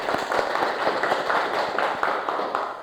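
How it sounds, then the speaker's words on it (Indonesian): Applause from students in a mathematics classroom, a steady patter of many hands clapping at close range for a few seconds, with faint chatter underneath. "tepuk tangan"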